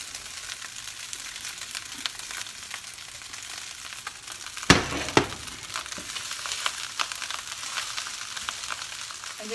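Fried rice with vegetables sizzling steadily in a pan, a continuous bright crackle with a few louder scraping stirs midway, close and alone with no talk.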